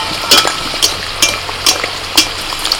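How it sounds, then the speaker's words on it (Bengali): Chicken kachori frying in hot oil in a village kitchen, a steady sizzle broken by regular sharp splashing bursts about every half second as oil is flicked over the pastry, close and fairly loud with no voices. "দু পিঠ উল্টে পাল্টে একটু লাল লাল করে ভেজে নিতে হবে"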